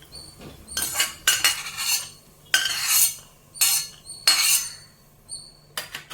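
Metal spoon scraping and clinking in a pan as roasted cashews and raisins are scooped out in ghee, several bursts of clatter separated by short pauses, close and clear with no talk.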